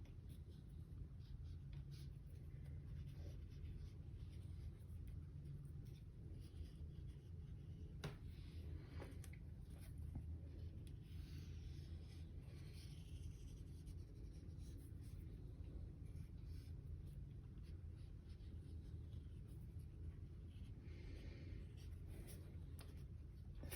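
A pen or pencil draws a bird's outline by hand on paper, a faint scratching over a low steady room hum, quiet and close.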